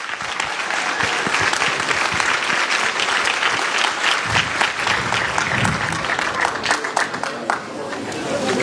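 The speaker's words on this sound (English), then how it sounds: "please give him a round of applause" Sustained, enthusiastic applause from a crowd at a community event honouring an imam, loud and continuous, with a little background chatter mixed into the clapping.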